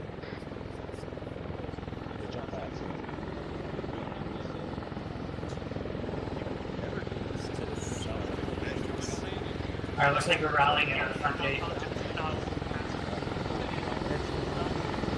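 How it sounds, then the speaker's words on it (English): Helicopters land in a compound in Arma 3 with a steady, heavy rotor drone throughout. Someone speaks over the noise. "helicopters are landing in the compound."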